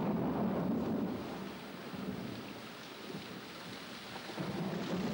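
A thunderstorm with heavy, steady rain and deep rolling thunder in a forest where wild chimpanzees live, loud and continuous throughout with no voices.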